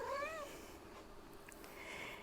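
A cat gives a short rising meow right at the start, then a fainter high call near the end, both close but quiet in an otherwise calm room during a yoga session.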